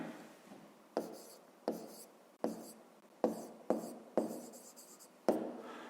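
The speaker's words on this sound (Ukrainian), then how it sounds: "Тобто тепер записуємо нехай." A pen writing on paper during a fifth-grade math exercise, heard as a series of close, short scratchy strokes in an uneven rhythm, each starting with a tap and trailing off.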